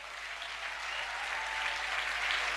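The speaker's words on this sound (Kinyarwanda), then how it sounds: "nutayikomera amashyi uyakomera Aposo" A church congregation bursts into sustained applause at a testimony service, the clapping steady and fairly loud throughout and swelling slightly toward the end.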